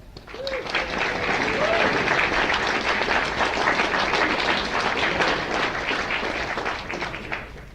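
An audience applauds to welcome a speaker at a talk on tax reform and Medicare cuts, a sustained wash of many hands clapping that swells and fades over several seconds.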